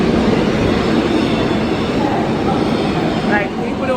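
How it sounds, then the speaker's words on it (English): Aboard the New York 7 subway train, a loud, continuous rumbling roar of the moving car fills the space, with a brief high squeal of wheels near the end. "Show off this train."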